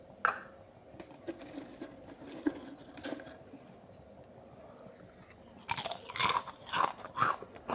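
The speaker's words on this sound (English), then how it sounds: "we eat Baseball's Crunchies salted egg" Crunchy salted egg crisps being bitten and chewed close by, a few loud crackling crunches near the end after quieter, softer chewing.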